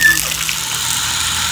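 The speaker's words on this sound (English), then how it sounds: "we're going to take a shower outside" Water runs steadily from an outdoor shower, a continuous broadband hiss at a fairly close distance with no talk over it.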